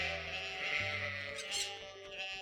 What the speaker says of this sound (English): I guess it is a flock of sheep, is it not?